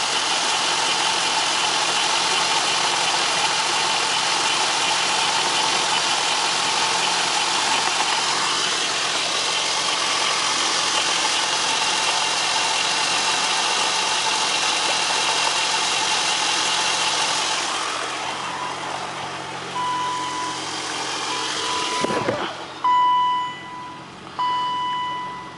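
A car engine runs steadily during an overheating test, a continuous close idle hum that shifts near the end, followed by a few electronic beeps and knocks as it winds down.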